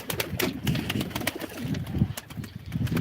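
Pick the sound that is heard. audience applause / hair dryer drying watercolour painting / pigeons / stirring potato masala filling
pigeons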